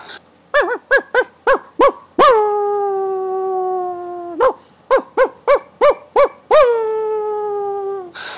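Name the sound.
dog barking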